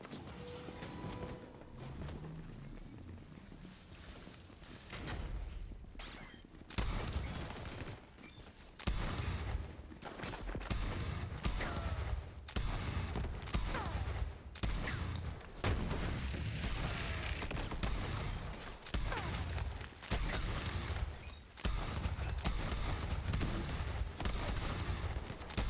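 A rocket launcher in a video game is fired over and over, loud booming blasts and explosions hitting in rapid irregular bursts, with short quieter gaps between volleys.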